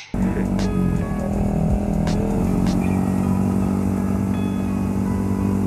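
A Yamaha MT-15 150 cc motorcycle engine runs steadily and loudly close by, a continuous low droning hum with a few faint higher tones drifting over it and no speech.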